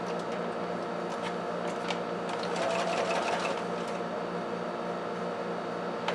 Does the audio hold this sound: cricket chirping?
no